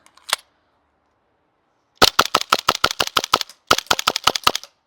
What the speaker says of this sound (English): You can kind of hear like the gas driving the bolt back a little bit softer.